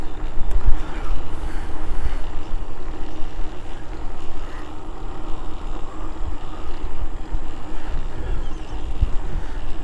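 Loud, continuous wind buffeting across the microphone while heading into the wind on a boat on open water, a rough blustery rush that covers the whole stretch, with no talking.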